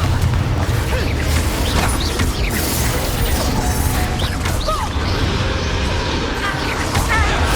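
Confringo blasting spell and other spell effects in the Hogwarts Legacy video game, a busy stream of mechanical clanks, booms and crashes amid combat, with character voices calling out.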